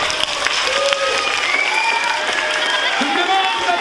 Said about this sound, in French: Je vous demande d'applaudir le docteur